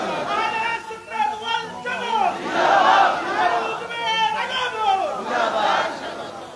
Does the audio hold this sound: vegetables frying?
no